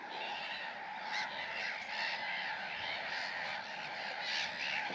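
Steady chorus of honking waterbirds, likely geese, calling across open water at Snettisham RSPB nature reserve, a continuous, moderately distant din with overlapping calls.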